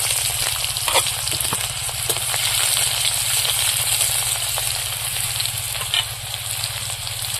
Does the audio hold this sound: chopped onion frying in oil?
yes